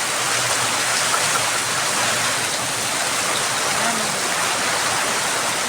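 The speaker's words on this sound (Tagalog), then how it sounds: "Lakas ang bagyo, hangin at ulan, sobrang lakas" Typhoon Uwan lashing San Andres, Quezon, with heavy rain and wind as one dense, steady roar that stays loud and unbroken throughout, with no clear voices.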